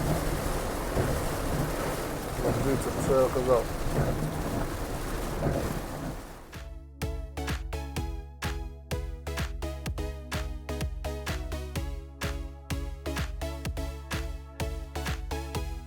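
A heavy downpour with thunder, heard around a taxi driver at work in the US: a dense, steady roar of rain for about six seconds before music takes over and covers it.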